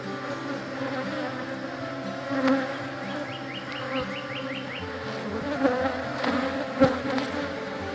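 Bees buzz loudly and steadily in an open beehive during an inspection, a dense close-up hum with a brief run of faint chirps and a few soft knocks of frames or tools.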